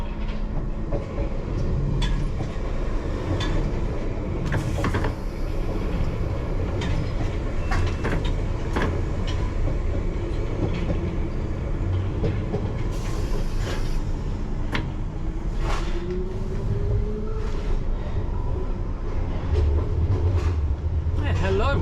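A London Underground Piccadilly line train runs westbound from Northfields toward Heathrow, a steady close rumble inside the carriage with rattles and scattered wheel clicks throughout.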